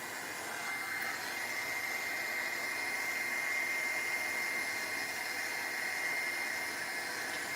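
A heat tool blowing on thick paint on a steampunk craft egg: a steady, fairly faint whirring rush of air that holds level throughout, with no voices.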